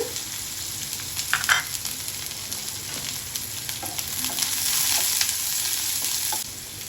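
Steady sizzling of onion frying in hot oil, with occasional crackles and a brief stirring clatter, close by and without talk.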